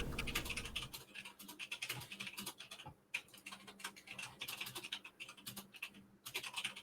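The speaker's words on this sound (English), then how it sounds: "I hear the clickety-clackety" Rapid computer keyboard typing fills the space with bursts of crisp, close clicks and clacks in an uneven rhythm, pausing briefly before resuming, with no voices.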